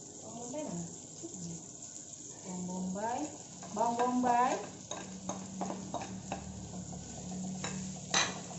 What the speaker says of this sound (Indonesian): Ini juga saya tumis, cengkeh, tumis.